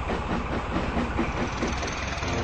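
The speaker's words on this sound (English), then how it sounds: "Sheffield chuffed off to collect his next train" A steam train rumbles steadily along, a dense continuous mechanical roar with a faint rhythmic pulse, loud and close.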